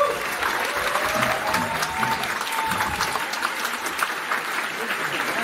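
An audience in a small opera house applauds a composer and singer, a sustained, fairly soft wash of clapping that runs steadily throughout, with a voice speaking faintly over it.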